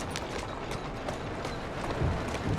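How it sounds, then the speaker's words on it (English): Horse hooves clip-clopping in the video game Assassin's Creed Syndicate, a continuous quick rhythmic trotting over a busy rumbling background with no talk. "Who's a good horse?"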